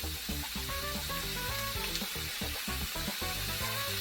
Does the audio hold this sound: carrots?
yes